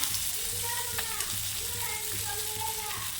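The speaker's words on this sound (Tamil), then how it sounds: "மீனை போட்டாச்சு கொஞ்சமாக எண்ணெயை ஊற்றி நம்ம பொறிச்சுப்போம்" Fish fries in a little hot oil with a steady soft sizzle and occasional stirring scrapes, while a voice speaks at moments over the crackle.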